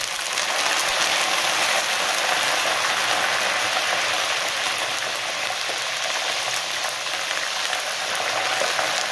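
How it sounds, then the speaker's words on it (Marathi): Peanuts frying in hot oil in a pan for garlic bhadang, a loud, dense, steady crackle and sizzle that runs unbroken the whole time, with no voices. "आपले शेंगदाणे छान भाजून झालेले, तडतड तडतड असे उडायला लागलेले, तेव्हा समजायचं की आपले शेंगदाणे चांगले तळले गेलेले आहेत"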